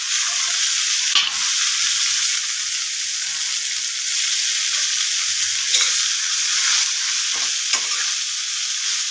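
Fenugreek (methi) leaves, salted and squeezed, frying in a pan give a loud, continuous bright sizzle, with a few small crackles and stirring scrapes and no talking.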